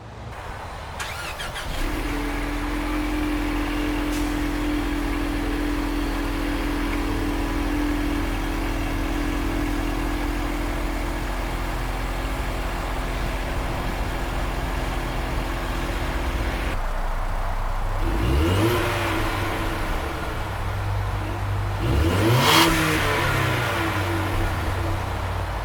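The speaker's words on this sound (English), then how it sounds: "Ford now offers an active performance exhaust system" A 2018 Ford Mustang EcoBoost with the active performance exhaust runs at a steady idle for a while. Near the end it rises in a couple of brief revs.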